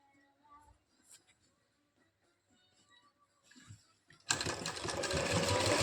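A sewing machine starts stitching along the elastic edge of palazzo pants after several seconds of faint handling noises, then runs continuously and loudly to the end.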